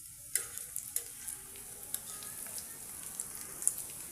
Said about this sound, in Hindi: दरमियानी आंच पर हम इसको फ्राई कर लेंगे, और जब कलर आ जाएगा इस पर अच्छा सा तो पलट देंगे।